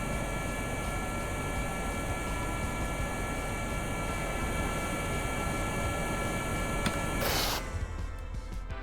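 A craft flying in helicopter mode in the game Kerbal Space Program drones in a steady, dense whine with a constant engine hum. The sound is close and unbroken, then briefly flares with a burst of noise near the end.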